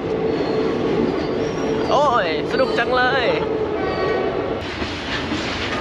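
A train passes on railway tracks in India, its wheels rumbling loudly and steadily while high wavering squeals rise over them, with people talking close by.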